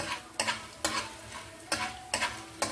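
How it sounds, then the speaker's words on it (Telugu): Dried red chillies frying in oil in a pan for dondakaya vamitala kaaram; a soft continuous sizzle with about six sharp stirring knocks spaced roughly half a second apart, and no voices. "కొంచెం వేగాక ఎండుమిరపకాయలు వేసుకుందామండి."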